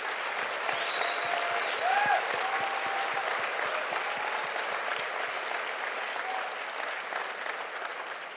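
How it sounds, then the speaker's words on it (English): Steady audience applause fills a banquet hall at a Catholic Foundation award dinner, a dense sustained clapping that holds through the whole stretch with faint voices mixed in beneath it. "Let's give him a round of applause for that."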